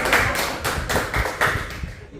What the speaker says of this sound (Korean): 다 같이 박수 한번